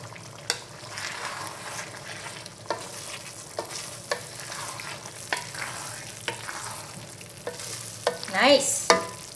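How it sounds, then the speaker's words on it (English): Korean mapo tofu thickened with starch slurry is stirred gently in a pan, soft sizzling with regular scraping strokes of the spatula and a louder bubbling burst near the end, close and quiet. "And just stir gently."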